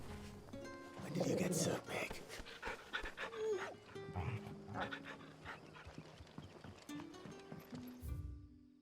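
A dog pants in the Final Fantasy XVI video game, its quick breathy huffs mixed with hoofbeats and game ambience, while someone talks over it.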